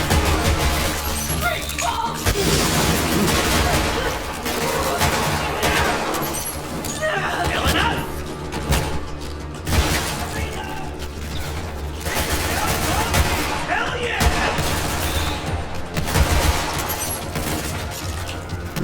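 Gunfire and shattering impacts from the looter-shooter video game Borderlands 3 crackle in busy bursts with mechanical reload clatter, loud and continuous, while a player talks at times over the action.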